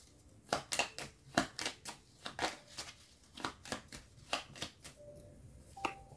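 Oracle cards shuffled by hand, a steady series of crisp riffling flicks and soft slaps, close and moderately quiet, with no speech.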